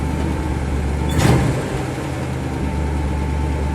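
A 1959 Dodge Custom Royal Lancer Super D500 convertible's engine runs at a steady high idle, a close, continuous rumble with a brief swell around the middle and no talking.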